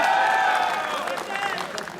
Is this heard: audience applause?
yes